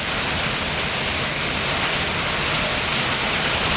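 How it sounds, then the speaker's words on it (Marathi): Heavy, steady rain pours down in a dense, unbroken hiss, loud and close with no pauses or voices. "किती खोटा पाऊस आहे बघा"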